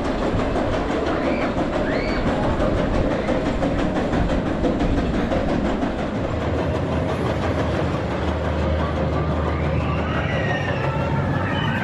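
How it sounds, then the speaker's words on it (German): The Big One, the tallest roller coaster at Blackpool Pleasure Beach, runs in a loud, continuous roar of rumbling wheels and rattling track clatter that holds steady from start to finish. "Und hier fährt sie Big One, die höchste Bahn."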